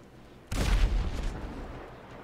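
A single gunshot in a video game, one loud booming report with a rumbling tail that fades over about a second and a half.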